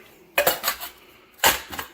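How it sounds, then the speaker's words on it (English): Titanium pots and bowls clink and clatter as they are nested inside one another, two quick bursts of close metallic rattling separated by a brief pause. "they nest inside of each other"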